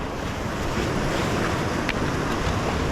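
Sea surf breaks on the shore at Le Grau-du-Roi, a steady, loud roar of washing water mixed with gusty wind buffeting the microphone.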